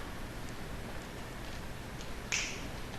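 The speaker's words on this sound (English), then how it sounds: "Dad, can you snap your fingers?" A father snaps his fingers once, a single faint, sharp snap against a steady indoor hiss.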